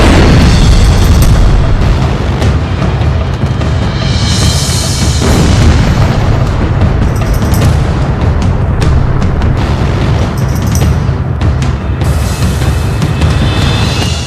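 Chinese missiles and rockets are fired, a loud sustained roar of launch blasts with deep rumbling booms and repeated bursts across the whole stretch.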